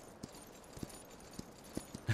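Horse hooves clip-clopping in the video game Myth of Empires, a handful of soft, irregular hoof thuds spread over a quiet, faintly hissing background with no talk.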